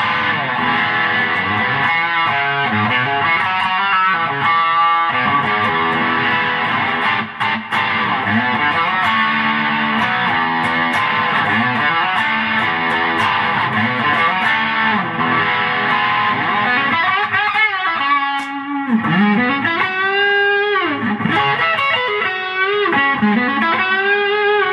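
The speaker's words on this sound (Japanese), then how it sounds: "これにちょっと歪みを足します。" A 1989 Orville SG electric guitar played through distortion, a thick, sustained overdriven tone with strummed chords giving way to bending single-note lines, loud and continuous with no talking.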